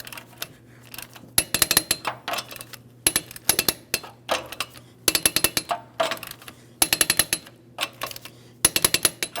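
Lug nuts on a 2003-2008 Toyota Matrix wheel being tightened to torque with a hand wrench, heard as bursts of sharp metallic ratcheting clicks in quick repeated runs, close and fairly loud, with short pauses between each nut.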